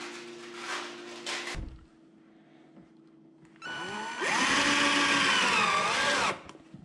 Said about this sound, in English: I'm going to take these 1-inch screws I've got, and I'm just going to put a couple in the lid